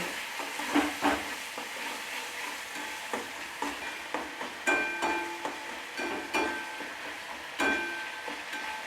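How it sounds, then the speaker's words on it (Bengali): Spices being stir-fried with sour yogurt in a pan for cauliflower curry: a steady sizzle with repeated scraping and stirring strokes of a spoon against the pan, close by and without talk. "টক দই, দিয়ে এটা আবারও ভালোভাবে মশলার সঙ্গে কষিয়ে নেব।"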